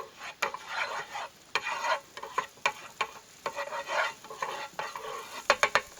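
Butter sizzles in a pan on a camping stove ahead of mango pancakes, a steady close frying hiss broken by regular scraping and clicking strokes as it is pushed around, with no talking.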